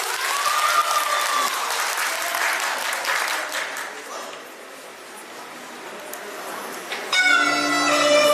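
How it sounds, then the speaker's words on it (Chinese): An audience claps steadily and warmly for about seven seconds at a Yue opera performance, fading slightly before instrumental music begins. "掌声有请。"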